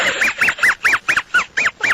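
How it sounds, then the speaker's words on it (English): A duck honks repeatedly in a steady series of about nine loud, nasal calls, close by and alone with no talk over it, in a radio studio. "Andy, get that damn duck out of here"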